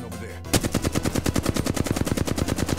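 Rapid automatic gunfire in a video game rattles out as one close, sustained burst of evenly spaced shots after a brief quiet start.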